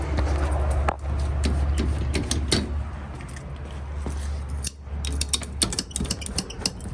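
Viking Arms lifting tool pumped up with a ratchet while fixing roller shutter springs, giving a series of sharp metallic clicks and clanks in irregular bursts, close and fairly loud over a low background hum.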